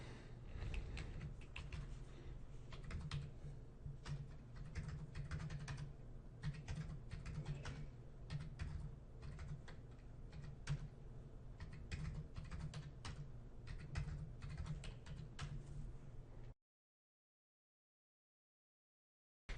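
Steady run of computer keyboard typing while IDs are entered, a dense patter of close key clicks lasting about sixteen seconds before stopping abruptly, with no talking.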